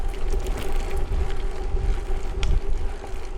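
Strong headwind buffets the microphone while riding a bicycle along a gravel route through a forest south of Lublin, a loud, steady rushing roar with gusty low rumble and no talking.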